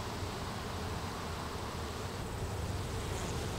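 Honey bees in an open hive during autumn preparation for winter give off a steady, dense, close buzzing hum that holds evenly throughout with no pauses.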